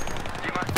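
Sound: friendly fire machine gun shots in Battlefield 3 video game

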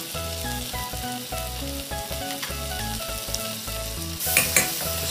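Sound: onions, ginger and garlic frying in a pan

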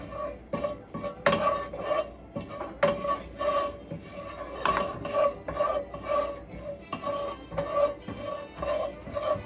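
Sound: cumin seeds being toasted and stirred in a pan

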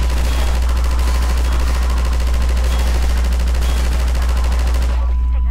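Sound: turret gunfire shooting Combine soldiers in video game Half-Life 2

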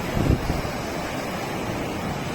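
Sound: sea waves on the beach

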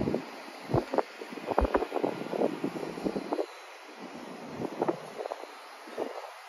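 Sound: wind blowing into microphone

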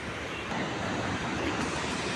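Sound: roar of sea waves on Vizag coast

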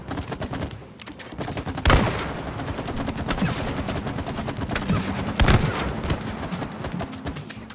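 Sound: shooting gunfire in video game It Takes Two

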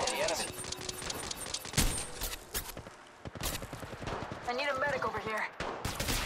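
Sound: gunfire in video game Apex Legends Mobile

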